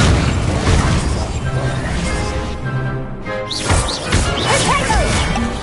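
Incendio fire spell cast in Hogwarts Legacy, a loud burst of crackling, whooshing flame with heavy impacts and smashing hits, fading briefly before more crashes and swooshes in the midst of busy combat noise.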